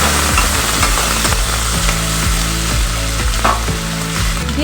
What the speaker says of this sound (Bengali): ভালো করে একটু আমি ভেজে নেব